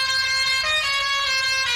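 A loud, sustained multi-tone truck horn from a TATA 1210 in the game Spintires: MudRunner blares steadily, its pitch shifting slightly partway through, with low rumble underneath.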